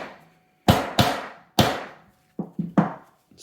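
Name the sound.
hammer tapping fire control group housing into receiver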